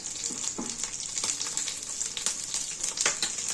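Steady hot-oil sizzle of frying chhanar paturi, Bengali-style paneer parcels with green chilli, a dense crackling hiss throughout with a few sharper spits and pops, close and fairly loud, no talk.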